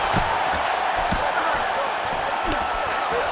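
Arena crowd noise from the UFC 5 video game, a steady loud roar of cheering under a featherweight bout between Brian Ortega and Renato Moicano, with scattered thuds and a commentator's voice over it.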